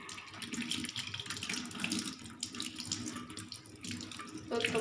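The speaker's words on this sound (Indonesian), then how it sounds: "bilas kembali menggunakan air yang mengalir" Tap water running steadily from a faucet over hands being rinsed at a sink during handwashing, a continuous close splashing stream with slight shifts in loudness, with no talking.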